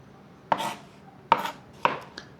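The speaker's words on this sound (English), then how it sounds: "I'm gonna go the old knife style, because then you can cut them" Three sharp knife chops go through cucumbers on a board as they are cut about a quarter inch thick for dill pickles, each a close, crisp thunk with a short ringing tail.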